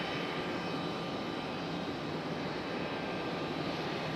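Airplane arriving at Raleigh Durham International Airport, a steady broadband engine roar that holds at a constant level throughout, distant rather than close, with no voices.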